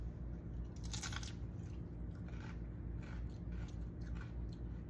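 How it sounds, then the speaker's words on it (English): A tortilla chip loaded with cowboy caviar is bitten and chewed, giving a crisp crunch followed by softer, quieter munching close up with no talking. "Let's go in with this chip."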